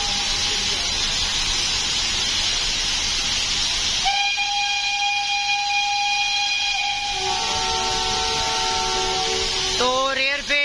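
Steam locomotive 2306 on a steam safari train out of Lahore sounds its whistle, a long, loud, multi-toned blast that shifts pitch near the end, rising over constant hiss and rail noise.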